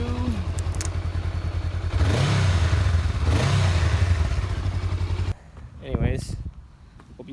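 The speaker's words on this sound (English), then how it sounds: "And I'll give you guys a couple revs like they always do." A Honda Rebel 500 ABS motorcycle engine idles loudly up close, then gets two rising revs before cutting off abruptly, leaving faint background sound.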